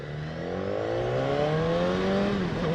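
A 2016 BMW S1000R motorcycle accelerating briefly at light throttle, a rising engine whine with climbing pitch, fairly close and steady, with no talk.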